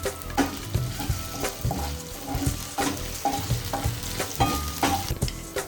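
Potatoes with green chillies cooking in a pan, a steady sizzle and fry broken by repeated stirring scrapes and clinks, close and fairly loud with no talk.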